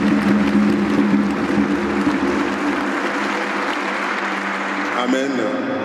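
A congregation applauds during a Catholic mass, steady clapping filling the church for several seconds before a voice briefly rises over it near the end.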